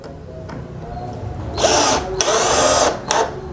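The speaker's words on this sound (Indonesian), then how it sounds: "Ini pengeboran satu tangan pun saya masih oke banget nih." A DCK KDJZ1202 12V cordless drill bores through material, whining loudly in two bursts of about a second each with brief pauses between, following a quieter motor hum.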